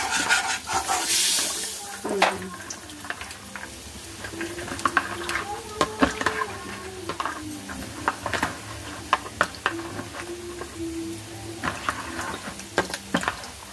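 Food is stirred in a pan, with repeated scraping and clacking of a utensil against the metal over a low background sizzle, while a person talks intermittently.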